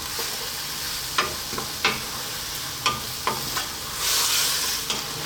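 Beef and mushroom stir-frying over high heat, a steady close sizzle broken by several sharp scraping stirs of the spatula and a brief surge of hissing near the end.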